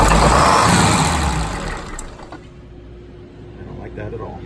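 Twin Detroit Diesel 6-71TA turbocharged boat engines running loud and fast at first, then easing down to a quieter, steadier idle hum with people talking nearby.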